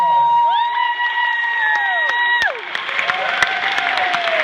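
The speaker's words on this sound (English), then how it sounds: "Give these guys a round of applause." Applause and cheering from an after-prom hypnosis show crowd; long held whoops and shouts ride over the noise, then clapping and crowd noise take over in the second half, loud and close.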